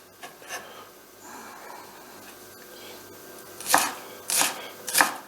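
A knife cutting white asparagus sticks on a cutting board, starting with soft scraping and slicing and ending in three loud, sharp chops near the end, close up with no voices.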